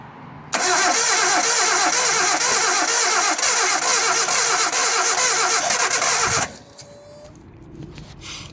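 A Suzuki Jimny engine, just rebuilt with its injectors reinstalled, cranks with a loud, fast, steady whirring churn for about six seconds without catching, then cuts off to quiet shop background.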